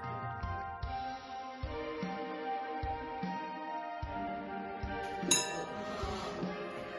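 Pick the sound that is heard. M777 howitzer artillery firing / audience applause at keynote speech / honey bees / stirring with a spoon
stirring with a spoon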